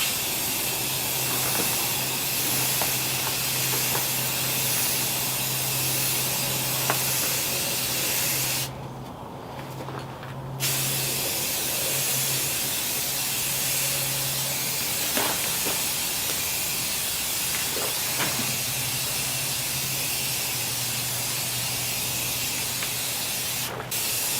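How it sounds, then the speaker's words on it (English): Clear coat is sprayed over a carbon fiber sunroof fill panel for a BMW E46 M3: a loud, close, continuous hiss that breaks off for about two seconds, then resumes steadily. "I'm going to coat the whole thing on the top level with clear coat"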